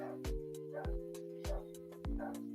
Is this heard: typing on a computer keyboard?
no